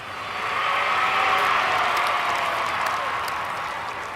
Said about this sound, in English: you see that in the reaction of the crowds lining the streets